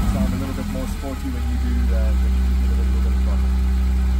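A BMW E46 idles with a steady, low exhaust gurgle that stays even and prominent throughout, a soft engine hum filling the background.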